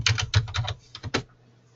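A quick run of typing on a computer keyboard: about a dozen close, crisp key clicks in two short bursts, then quiet.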